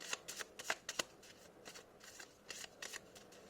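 A deck of oracle cards is riffled and shuffled by hand, giving a quiet, close series of crisp flicking bursts in an irregular rhythm, with no voices.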